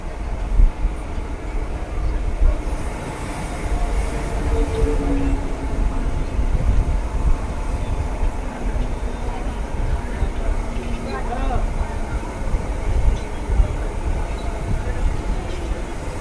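The new Katwa–Barddhaman EMU local train pulls into Kamnara station with a continuous loud rumble and rattle of carriages, and a voice talks over the rolling noise.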